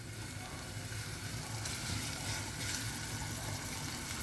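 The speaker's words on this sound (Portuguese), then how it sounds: "cebola começando a refogar" Chopped onion and garlic sautéing in a pan for rice, a steady close sizzle and crackle of frying with no pauses, alone without talk.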